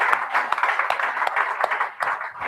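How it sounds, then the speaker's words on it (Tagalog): A congregation at a Sunday church service gives loud applause, a lively mix of many hands clapping with irregular peaks, close and filling the whole moment. "Isang malakas na palakpak sa Panginoon."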